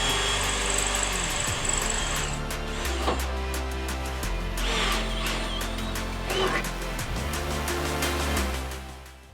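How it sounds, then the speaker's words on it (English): Power drill boring holes in a car's metal slam panel, the motor whining and bogging in repeated bursts, fairly close and loud with brief pauses between holes. "This started off by me centre punching the slam panel where I wanted to drill the holes."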